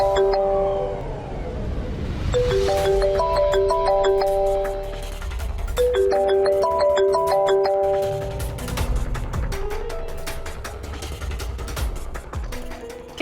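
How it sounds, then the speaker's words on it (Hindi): A phone ringtone plays a repeating bright melodic chime pattern, loud and close indoors, cycling several times in the morning. "किसका फोन आ रहा है सुबह सुबह?"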